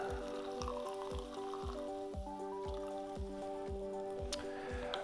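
Freshly poured soda water fizzes with a steady, faint crackle of popping bubbles, while a soft tonal backdrop plays quietly behind it.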